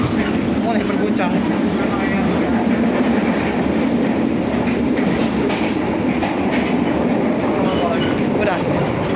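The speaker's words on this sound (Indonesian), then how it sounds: "Ya, mulai cepat keretanya." Malabar train between Bandung and Pasar Senen gathering speed, a steady loud rumble with clickety-clack of wheels over rail joints and the carriage shaking throughout, with faint voices underneath.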